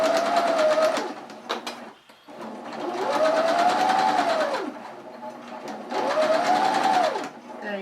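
Sewing machine stitching a curved line around a fabric circle for a rice pot bonnet, three long whirring bursts of rapid stitching separated by short pauses, close and loud.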